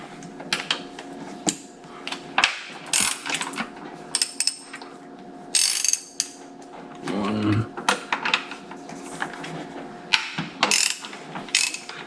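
A ratchet backs out coil pack bolts on a Jeep Grand Cherokee WJ, giving quick bursts of close, sharp clicking in uneven runs with short pauses between them, and one longer grinding stretch partway through.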